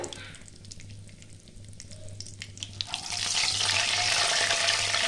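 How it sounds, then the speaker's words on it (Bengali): Whole spices (two bay leaves, four cloves, two cardamom pods and a cinnamon stick) hit hot oil with already fried chicken, giving a steady close sizzle that swells louder and fuller halfway through and continues without talk. "আমি এবার দিয়ে দেব দুটো তেজপাতা চারটে লবঙ্গ দুটো এলাচ ডালচিনি একটা"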